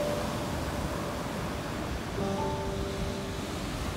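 Surf washes steadily onto a Cornish beach in a broad, even hiss of breaking waves, heard alone with light wind.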